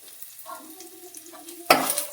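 Onions fry with ginger garlic paste in a pan, a quiet sizzle with light stirring that swells into a louder, brighter crackle over the last half second.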